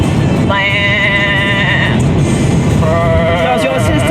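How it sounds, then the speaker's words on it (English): Sheep bleating loudly and nearby, two long wavering bleats separated by a short gap, set against a steady background rumble. "Sheep were back there."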